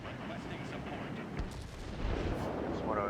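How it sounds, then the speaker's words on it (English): Cannons on a German Horten Ho 229 fighter fire in World of Warplanes, dense rapid booming bursts that rumble continuously and grow louder toward the end, with engine drone beneath. "Love the cannons on that aircraft"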